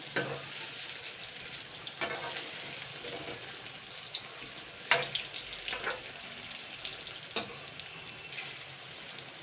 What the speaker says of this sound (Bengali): তো এরকম লাল লাল করে আমি সব কটা ভেজে নেব।